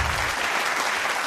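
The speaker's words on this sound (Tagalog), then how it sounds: "Ma'am, pinapalakpakan ka namin." Applause in a radio studio, a dense burst of clapping held at an even level for a brief moment with no voices over it.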